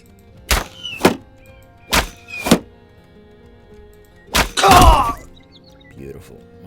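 Weapon blows landing on armored foes in Battle Brothers, several separate heavy thunks in quick succession, then a final impact with a grunting groan and a softer knock, close and clear.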